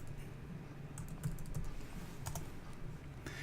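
Someone types on a computer keyboard while entering medication orders, with scattered soft key clicks and a few quick bursts over a low steady hum, close and quiet.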